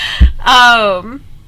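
A house cat gives a single close, loud, drawn-out meow that rises and then falls, preceded by a brief thump.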